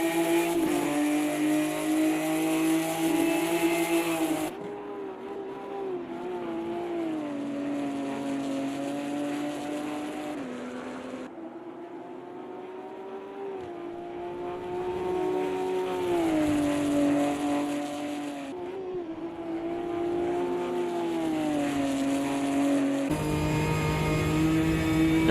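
GT4 race car engines in the sim racing game Automobilista 2 drone and rev continuously, pitch rising and falling through gear shifts and corners, steady and prominent with abrupt camera-view changes.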